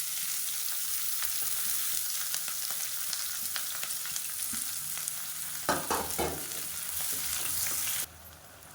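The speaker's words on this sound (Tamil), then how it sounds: "இப்போ இதில் நீளமாக நறுக்குனா ஒரு பெரிய வெங்காயம் சேர்த்துக்கலாம்." A large, long-sliced onion fries in hot oil with a bay leaf for mushroom pulao. It gives a steady close sizzle, broken near the end by a few spoon scrapes as it is stirred, then the sizzle drops off sharply.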